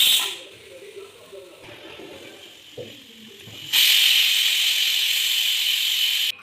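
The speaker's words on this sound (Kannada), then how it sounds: "ಕುಕ್ಕರ್ ಮುಚ್ಚಿ ವಿಜಿಲ್ ಹಾಕಿ ಇಟ್ಟಿದ್ದೀನಿ" Pressure cooker cooking peas pulao: after some quiet kitchen shuffling and clatter, a loud, steady hissing whistle of steam starts and holds strongly to the end.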